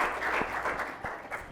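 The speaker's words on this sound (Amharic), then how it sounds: "አጨብጭቡላቸው፣ በደንብ አጨብጭቡላቸው።" An audience claps for children at an Ethiopian children's day program, producing a dense, even patter of applause at moderate distance with a few sharper individual claps.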